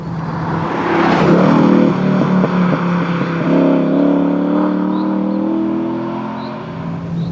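A TVR Chimaera 500 pulling hard under full throttle, its engine note climbing loudly through the gears with a brief shift stutter, then a sustained rising roar that eases off gradually toward the end, with no talk.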